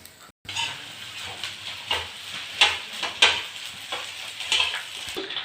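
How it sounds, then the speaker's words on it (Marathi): Edible gum (dink) frying in hot oil for homemade ladoos, added a little at a time: a soft, fairly faint bubbling sizzle with a few brief crackling bursts, heard without any voice. "कायम डिंक तेलात टाकताना थोडा थोडा टाकायचा। डिंक ह्या प्रकारे तळून घेतला आहे।"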